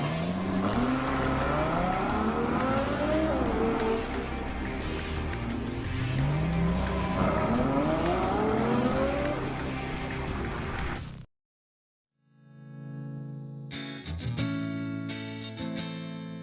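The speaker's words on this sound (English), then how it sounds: "The FF, meaning Ferrari 4, has the largest capacity road-going Ferrari engine ever produced." Ferrari FF with its large-capacity road-going V12 driving past loudly, engine note rising and falling through repeated gear changes, then a brief silence before a sharp burst of revving.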